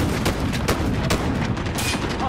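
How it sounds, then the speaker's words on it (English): Continuous heavy gunfire fills a first-person Call of Duty: Modern Warfare battle while driving through the Tavorsk District, dense loud bursts with sharp transients throughout and no pauses. "I'm just going to keep driving up and down, shooting them."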